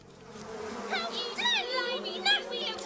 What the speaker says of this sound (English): I do not like bumblebees.